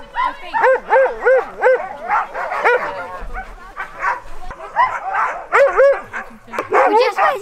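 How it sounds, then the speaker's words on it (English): A crowd of huskies waiting to pull a sled in snowy Lapland, Finland, barking in rapid, loud overlapping volleys with yips and whines, nearby and continuous for several seconds. "We're just waiting for a husky ride, and I think they're all very cute to go because they're all barking"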